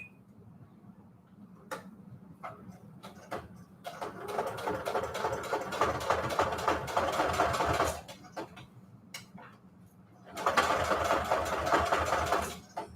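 A sewing machine stitches through a Tim Holtz die-cut alterations tag in two sustained runs of rapid, rhythmic clatter, preceded and separated by quieter hum and a few isolated clicks, all close by.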